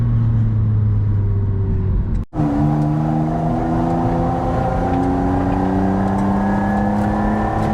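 A McLaren 750S engine screams up through the revs, briefly cuts at a gear change, then climbs again with a rising, loud whine.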